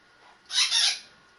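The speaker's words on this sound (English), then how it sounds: "apologies about the bird calling in the background. That is my wife's Hans Macaw." A Hahn's macaw kept indoors gives a single harsh, raspy squawk lasting about half a second, moderately loud against a quiet room with no talking.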